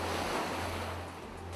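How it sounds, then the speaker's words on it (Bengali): Ocean waves wash over sand and stones on the shore in a steady, soft roar of surf, with a low hum beneath it, unbroken and moderately distant. "এই ঢেউ যা এসে সাগরের পাড়ে থাকা সমস্ত বালি পাথরকে ধুয়ে আবার মহাসাগরে ফিরে যাচ্ছে।"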